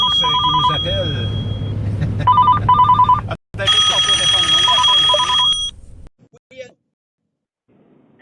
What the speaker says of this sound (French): Il y a France qui nous appelle.